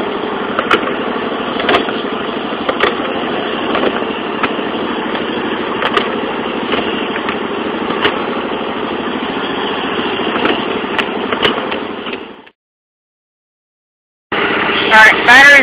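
A Yardman lawn mower's small engine idles steadily after a cold start, a loud continuous drone with faint periodic knocks, cutting out abruptly near the end before a brief burst of noise returns.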